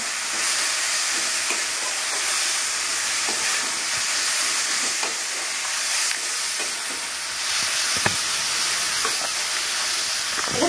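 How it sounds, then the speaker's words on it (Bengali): Spice paste for Bengali-style mutton kosha being fried and stirred in a pan until the oil separates, giving a steady loud sizzle and hiss throughout, with occasional scraping stirs and no talk. "এটা তেল ছাড়াও অব্দি একটু কষবো আমি"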